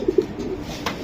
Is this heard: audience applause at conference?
no